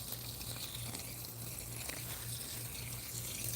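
Soft, continuous pattering as water flows into a bucket used to feed plants on a suburban homestead, faint and near, with a low rhythmic hum running beneath it.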